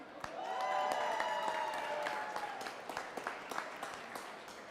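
A crowd at a FIRST Tech Challenge robotics qualifier in Washington, DC cheers and applauds, a swell of whoops and whistles over steady clapping that peaks early then thins into scattered claps.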